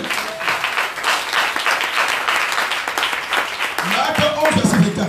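A church congregation applauds steadily throughout to acclaim Jesus, a dense wash of many hands clapping at close range, with voices calling out over it toward the end.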